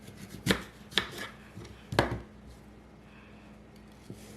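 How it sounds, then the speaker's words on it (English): A knife chops peeled apples into small pieces on a cutting board, three or four sharp, close thuds spaced unevenly, then a quieter stretch ending with one light tap. "Now I'm going to start chopping them up into small pieces"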